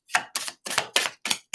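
A deck of tarot cards is shuffled by hand up close in quick crisp bursts, about six short riffling rasps in a row with brief gaps between them, and no talking.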